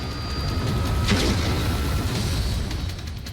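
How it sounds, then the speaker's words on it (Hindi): A single deep boom of a Russian tank exploding in a Ukrainian attack bursts out, followed by a rolling, rumbling roar that lingers and slowly fades. "एक धमाका और हर तरफ आग का बवंडर और धुएं का गुबार छा गया।"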